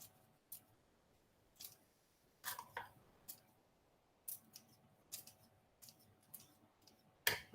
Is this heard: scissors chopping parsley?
yes